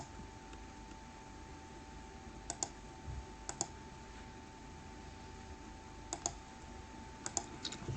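Scattered keystrokes tap on a computer keyboard while a name is entered on a sign-up page, a few quick clusters of soft clicks over faint background hiss, with no talk.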